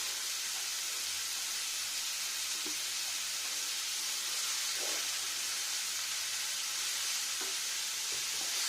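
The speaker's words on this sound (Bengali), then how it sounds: "টমেটোটা দিয়ে নিলাম এবার কষাবো ভালো করে ঝিঙে আর টমেটো" Ridge gourd and tomato frying together in a home kitchen pan, a steady close sizzle and hiss with a few soft stirring clicks, no voices.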